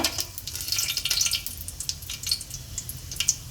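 Shahjeera and cinnamon sticks sizzle in hot oil for a vegetable biryani, giving a steady close crackle with faint bubbling and no talk.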